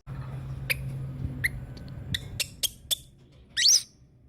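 A kinkajou gives a series of short, sharp squeaks, several scattered single chirps ending in a louder drawn-out squeal, close by over a low background hum.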